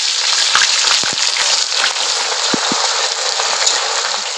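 Sliced onions drop into hot oil with whole cumin and spices, filling the space with a dense, loud, rain-like sizzle and scattered crackles that hold steady throughout.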